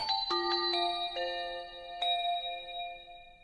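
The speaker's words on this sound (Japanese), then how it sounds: "ピンポンパンポン。" An announcement chime plays a descending ding-dong sequence of four bright bell-like tones that sustain and overlap, then a final struck tone rings out, clear and close with no talk.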